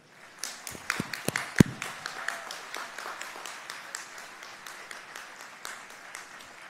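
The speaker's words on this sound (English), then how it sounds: "A round of applause." A high school graduation crowd gives a round of applause: a few sharp, loud near claps open, then scattered clapping builds and settles into a thinner, fading patter of hands across the hall.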